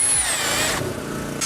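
A power drill bores holes for wooden pegs, its motor whining steadily and loud at close range as the pitch shifts while the bit works through the material, with no talk over it.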